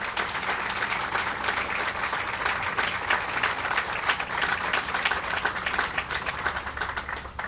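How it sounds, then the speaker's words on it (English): Sustained audience applause fills a press conference room, dense steady clapping from many hands that holds at an even level throughout without speech. "Let's give them all a round of applause."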